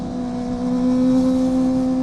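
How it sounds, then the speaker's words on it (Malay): Steady engine drone of a Kawasaki ZX25R ridden through busy morning traffic among cars, a strong sustained tone holding at constant pitch and loud throughout, with no talk. "Pagi-pagi pun dah banyak kereta siut."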